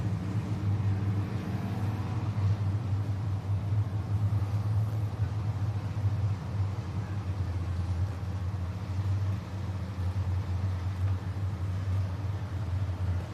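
Stock race cars idle around a dirt speedway under caution at Needmore Speedway in Norman Park, Georgia, a steady low engine rumble droning from a distance throughout with no talk over it.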